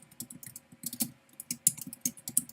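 Steady keyboard typing, quick light key clicks in an uneven rhythm, heard up close with no talking.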